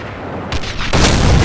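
Heavy gunfire in Company of Heroes: two loud, close blasts in quick succession swell into a sustained roar of shooting, with no talk over it.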